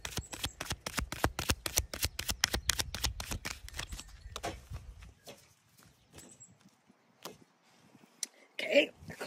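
A deck of tarot cards riffled and shuffled in a rapid, close flutter of snaps for about five seconds, then quieter handling and a few scattered card taps.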